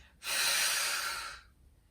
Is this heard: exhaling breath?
yes